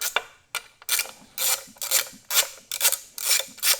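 An 8mm socket ratchet clicks in quick bursts while backing out a bolt on a 2016 Honda F6B motorcycle being stripped for powder coating, with repeated close, sharp ratcheting strokes separated by short pauses.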